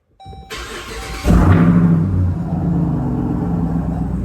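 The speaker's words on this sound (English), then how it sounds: "But I got to give y'all this cold start" A 900hp Jeep Trackhawk cold-starts close by: a brief starter whine, then a loud bark as the engine catches and settles into a heavy, steady rumbling idle, with no talking.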